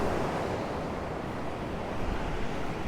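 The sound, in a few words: sea waves breaking on the shore, Sa Coma, Mallorca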